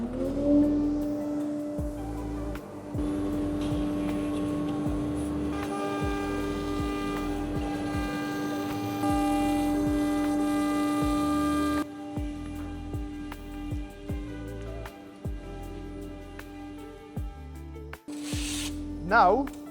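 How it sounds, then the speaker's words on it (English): A CNC router with a 6 mm cutter cuts a face panel for a custom photobooth while dust extraction and a vacuum run, making a loud, steady whine with a tonal hum that holds for about twenty seconds. "I need to turn on the dust extraction and the vacuum."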